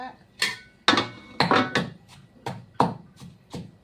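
A metal wok clanks and scrapes repeatedly as it is set on a stove, a series of sharp knocks close by.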